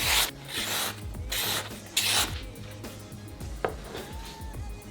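A kitchen knife blade drawn along a honing steel in quick repeated strokes, sharp metallic scraping swipes close to the ear, some ringing briefly, alone without talk.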